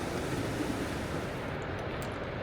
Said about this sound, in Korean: 웅장한 소리와 함께 나무 사이로 거대한 폭포가 모습을 드러냅니다